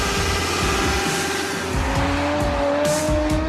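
Motorbikes race and perform stunts amid street traffic, with loud revving engines, rising whines and repeated tire squeals sounding close and continuous.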